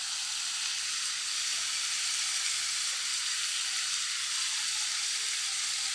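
Potatoes and fish sizzle steadily in a hot pan for a Bengali curry as green chilies go in, a loud, even, continuous hiss of frying with no talking.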